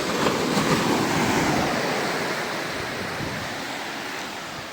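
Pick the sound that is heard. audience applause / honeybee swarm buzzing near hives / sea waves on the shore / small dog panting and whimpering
sea waves on the shore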